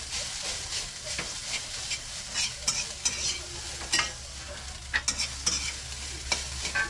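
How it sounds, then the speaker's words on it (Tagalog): Fried rice frying in a pan, a continuous close hiss of sizzling broken by repeated scraping and tossing strokes of a spatula stirring it. "Prituhin ko na muna itong fried rice."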